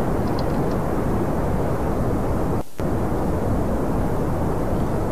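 Steady roaring rocket engine burn in Kerbal Space Program, holding loud and continuous on a Mun transfer. It breaks off in a brief dropout partway through, then resumes unchanged.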